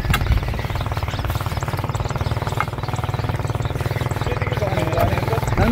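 A grass cutter engine runs steadily in a farm field, a loud, continuous pulsing drone that holds for several seconds with no break.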